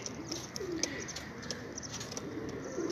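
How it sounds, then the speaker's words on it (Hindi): Pigeons coo softly in repeated low, throaty phrases against light background noise, with no talking. "ये जी बहुत ही प्यारा कबूतर है जी"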